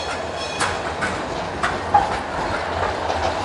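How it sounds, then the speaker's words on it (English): A Sheffield Supertram rolls past on Fargate, a steady loud rumble with faint rail clicks and a brief high squeal, heard close with no voices. "I don't know when the super trams are coming past me"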